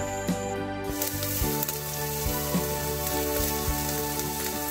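Chicken grilling on a provincial charcoal stove gives a steady, dense sizzle and crackle with scattered sharp pops, close and continuous throughout.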